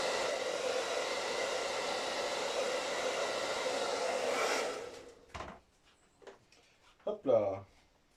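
A hair dryer blows steadily on the stickers of a Tamiya M05 body, a loud continuous rushing whoosh for about five seconds before it cuts off, followed by a few short handling knocks and a brief voice.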